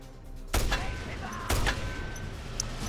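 Two sharp revolver shots from the video game Just Cause 2, fired about a second apart, each with a booming report and a short ringing tail over steady game ambience.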